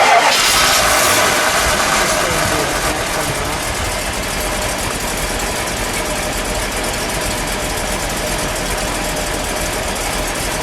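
A 1971 Plymouth Cuda convertible with a 383 V8 idles steadily up close, a continuous loud rumbling drone that stays even throughout with no talking.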